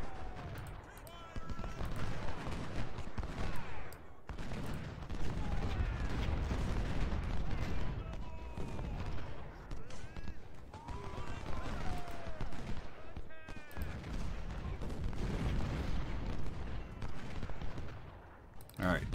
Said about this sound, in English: Thankfully, they've got plenty of artillery support